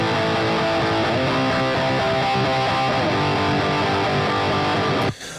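Layered metal guitars run through distortion plugins form a heavy, saturated wall of sound, steady and loud throughout, then stopping suddenly near the end with no talking.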